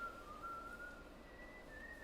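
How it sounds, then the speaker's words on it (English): Thin, wavering, tuneless whistling of Auld Lang Syne, slow and steady, fairly quiet and drawing closer, over a faint background hum. "Someone is whistling Old Lang Syne, tuneless and getting closer."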